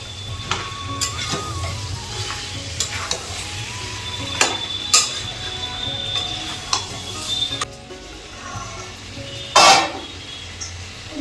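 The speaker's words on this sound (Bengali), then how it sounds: "ভাজা আলুটা দিয়ে হালকা নেড়ে জল দিয়ে দেবো, গরম জল দেবো" A spoon stirs mutton curry and fried potatoes in a pan, making irregular scraping and clinking strokes over a steady low sizzle, with a sharper burst of scraping near the end.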